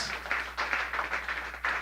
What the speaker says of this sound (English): Give that guy a round of applause